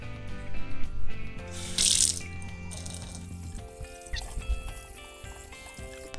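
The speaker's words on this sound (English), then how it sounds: "so now we're going to wash off our basil" Tap water runs into a kitchen sink while fresh basil leaves are rinsed, a steady close splashing stream with a brief louder gush near the middle, no talking.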